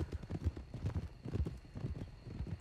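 Horse hooves clip-clopping in Red Dead Redemption 2 while riding across open, empty country: a steady, even galloping rhythm of soft thuds throughout, moderately quiet and with no voices.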